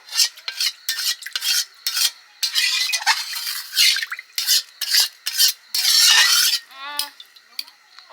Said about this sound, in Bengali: কড়ার গায়ে ভালো করে কাঁকিয়ে ভালো করে ধুয়ে জলটা প্রেসার কুকারে ঢেলে দেবো